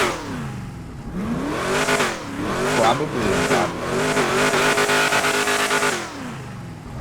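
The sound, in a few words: car engine revving after engine swap, from GTA video game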